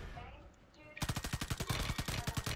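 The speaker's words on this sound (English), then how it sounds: "He's shooting me though." Rapid automatic gunfire in a video game, a fast even burst of loud shots cutting in after a second of quieter game sound and continuing to the end.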